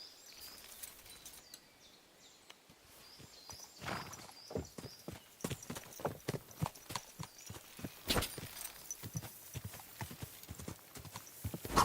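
Horse hooves clip-clop in the video game Kingdom Come: Deliverance 2, starting faint and then striking in a brisk, even rhythm that grows louder and closer, with a brief whinny along the way.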